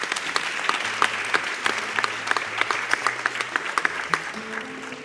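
Applause from a theatre audience at the Teatro Nacional, a sustained patter of many hands with distinct individual claps standing out close by, and low murmuring voices beneath.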